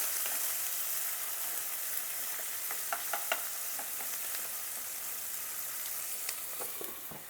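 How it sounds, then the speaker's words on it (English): Steady loud sizzling of chicken frying in a hot pan on high heat with onions, with occasional crackles and pops throughout, no voices. "I hope you can hear me all right with that sizzling chicken"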